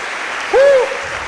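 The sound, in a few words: congregation applauding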